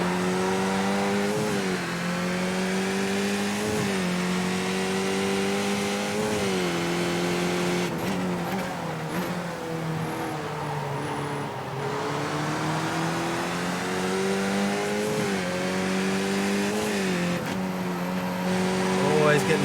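Skip Barber race car at Tsukuba in the iRacing sim: a near engine revving up and down through gear changes, rising pitch sweeps and brief tire squeal, with a commentator talking over it throughout.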